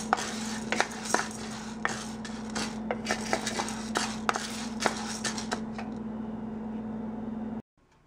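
Toor dal dry roasting in a pan, stirred with a metal utensil: irregular clinks and scrapes over a steady hum, stopping abruptly near the end.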